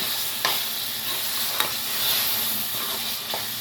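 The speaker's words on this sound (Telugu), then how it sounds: "కడిగి పెట్టుకున్న కేజీ చికెను ఇందులో వేసేయాలి. వేసేసి బాగా కలపాలి." A kilo of washed chicken pieces drops into a hot pan and is stirred with onion, ginger-garlic paste and tomato. A steady close sizzle runs throughout, with a few sharp scrapes of the spoon.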